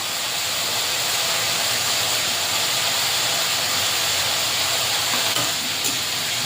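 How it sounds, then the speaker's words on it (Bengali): Prawns and potatoes frying in a pan, a steady, close, continuous sizzle and hiss that holds throughout without pause. "দিয়ে আর একটু হালকা ভেজে নেব"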